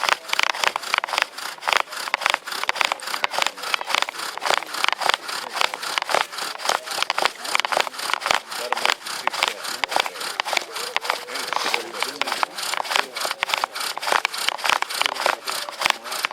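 Rapid back-and-forth wooden friction, a rhythmic rasping squeak of a bow drill spindle grinding into a board, steady and close for the whole stretch.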